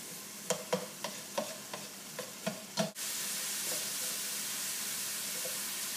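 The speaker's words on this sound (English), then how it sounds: "I'm going to get the garlic going as well. Try to saute in this." Garlic is stirred in a pan while it sautés. A few soft scraping stirs come first, then a steady, even sizzle of frying starts suddenly and carries on, quiet and close, with no talk.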